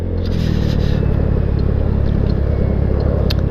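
A Genuine Blackjack 150 scooter rides through a 20 mph zone, its small engine droning steadily and close with a slight rising pull, accompanied by constant road and wind rumble.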